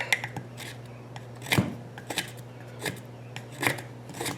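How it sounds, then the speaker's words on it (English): A cheap dollar-store knife shaves curls off a piece of fairly hard wood, giving scattered short rasping scrapes at close range, a few strokes spread across a quiet background with no talking. "if you just wanted to make some shavings for tinder, and it's some fairly hard wood here"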